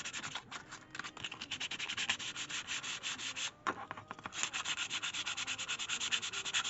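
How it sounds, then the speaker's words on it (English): Light sanding of knife handle scales with 120-grit: steady back-and-forth sanding with a gritty, raspy rhythm, close up and continuous, with a brief pause midway. "I'm gonna just clean up the scales with 120, just doing some light sanding."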